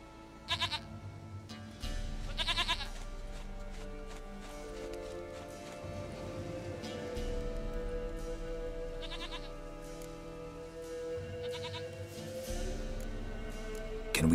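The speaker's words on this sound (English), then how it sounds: "Goat of mine, dearest, sweetest goat." Goat bleating in The Witcher III game, several distinct bleats recurring over a continuous musical and ambient game soundtrack, with occasional clip-clop-like noises in between.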